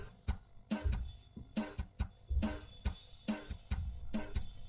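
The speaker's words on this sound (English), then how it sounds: "So we'll start with the drum track." Drum track stem isolated with the Logic Pro 11.2 stem splitter: a steady pattern of loud kick thumps and crisp snare and hi-hat hits in a regular rhythm, close and dry, with slight smeared transients and no voices.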